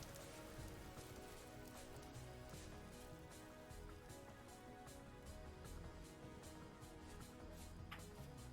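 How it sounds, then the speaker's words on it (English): Rain in the survival crafting game Vintage Story, a soft continuous wash with light drop ticks and low background texture, faint and steady without speech. "Here comes the rain."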